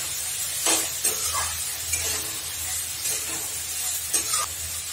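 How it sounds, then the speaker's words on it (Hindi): Tomatoes and chillies hit a hot pan of paste for a mixed chana dal and bottle gourd sabji, giving a steady close sizzle with a few brief stirring scrapes. "यहीं पे हम अपने टमाटर और मिर्च डाल देते हैं।"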